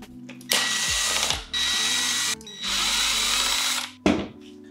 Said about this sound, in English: Now we need to take the controller screws out.